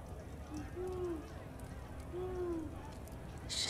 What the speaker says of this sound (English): It's just an owl